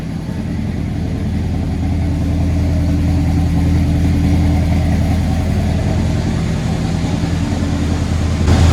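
A 1981 Oldsmobile Delta 88 engine running with its carburetor choke held slightly open, a loud, close, rough idle with steady low pulsing and no talk.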